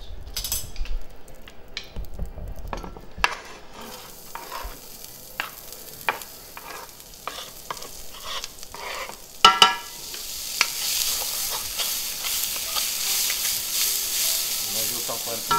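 Onions and carrots fry in oil in a pan for a dish of Hungarian-style beef tripe, with a steady sizzle and repeated scraping stirs and utensil knocks that grow louder partway through.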